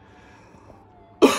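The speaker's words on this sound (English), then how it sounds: "I'm going to cough like crazy soon" A single sharp cough bursts out near the end after a quiet stretch of faint background hum.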